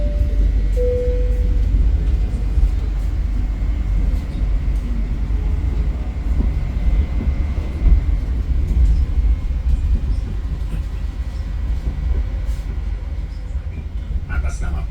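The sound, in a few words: Gaya Baru Malam Selatan passenger train running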